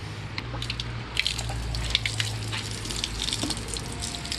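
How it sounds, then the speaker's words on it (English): Water trickles and splashes steadily out of a water-damaged xenon headlight unit from a Renault Espace IV, a close, continuous pouring with small drips and spatters and no talking. "It's full of water. A lot of water already came out from it"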